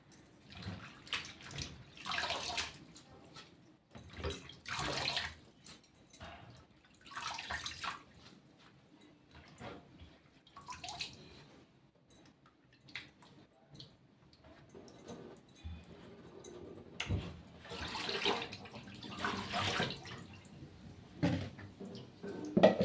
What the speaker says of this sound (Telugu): కొంచెం వాటర్ ఎక్కువ వేసేసుకొని వాష్ చేసుకోవాలి